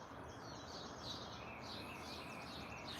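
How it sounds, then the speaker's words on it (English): Small birds chirp and tweet outdoors in the early morning, a steady faint chorus of high calls at a distance, with no voices over it. "Listen at them birds."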